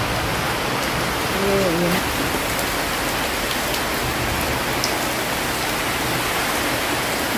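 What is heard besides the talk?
heavy rain falling in the patio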